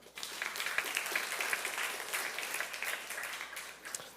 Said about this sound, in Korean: 우리 한번 박수 한번 해주세요.